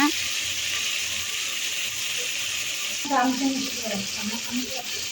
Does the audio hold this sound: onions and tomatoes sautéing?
yes